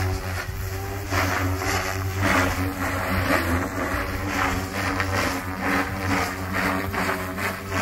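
Goosky RS4 Venom RC helicopter electric motor and rotor running in flight, a loud steady whine with pulsing rotor wash that swells and eases, close and constant, with no speech.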